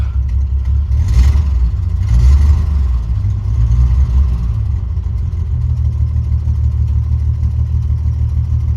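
A Jeep YJ engine idles roughly, its low rumble shaking and stumbling with uneven misfires. The engine has brand new plugs and wires. Two brief revs come early, then the steady, loud, close idle runs on alone.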